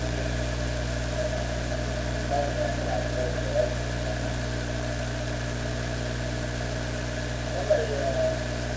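Stock car race engines at Sunshine Speedway, a steady loud drone of several cars running together with a brief surge near the end, no talking over it.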